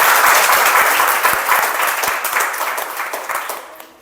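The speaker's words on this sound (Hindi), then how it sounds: "लेकिन इतनी ताली से नहीं मन भरा, कुछ बढ़िया से हो जाए।" An audience at an art and craft institute function claps loudly and continuously, a dense close wash of applause that holds strong before gradually thinning and fading out at the end.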